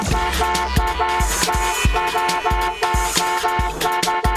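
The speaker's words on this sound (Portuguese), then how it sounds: "E dar aquela buzinadinha quando estiver passando?" Repeated car horn toots over a steady rumble of traffic, short honks recurring every half second or so, loud and close.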